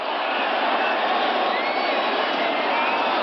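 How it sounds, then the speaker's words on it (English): A large stadium crowd roars at a 1985 Cowboys vs Giants football game, producing a dense, steady wash of distant cheering noise that holds at an even level throughout. "Crowd now back in it."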